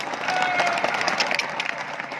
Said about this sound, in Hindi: बजाओ तालियां